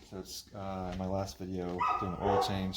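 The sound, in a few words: dog barking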